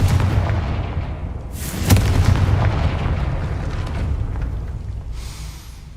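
A Confringo blasting spell explodes in the Hogwarts Legacy video game, a deep rumbling boom with a sharp crack near the start and a rolling tail that fades slowly.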